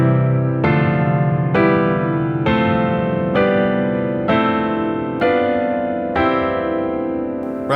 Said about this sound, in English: Sometimes you can overuse the pedal and it will sound like this.